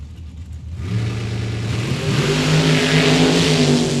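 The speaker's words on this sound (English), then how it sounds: "race car comes to the line" Drag race car with a 454 engine launching at a drag strip, a deep engine note swelling from idle into a sustained loud roar as it accelerates away, close and without talk.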